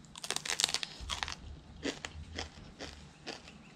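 Crisp crunching bites and chewing of fried jewfish, a cluster of loud close crunches at the start followed by several slower separate bites, up close with no talking.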